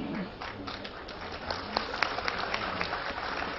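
Audience applause at a humorous religious talk, a steady wash of many hands clapping at moderate volume, lasting the whole few seconds without a voice on top.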